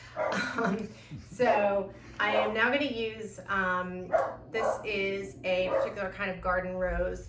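A dog barking inside a house during a floral design session, yips and barks mixed under someone speaking steadily near the microphone throughout.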